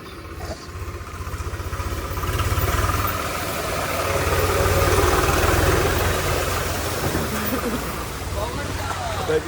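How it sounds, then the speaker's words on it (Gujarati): A tractor engine idles with a low, throbbing chug that grows slightly louder as it approaches near water, while people talk over it. "ટ્રેક્ટર આવી ગયું."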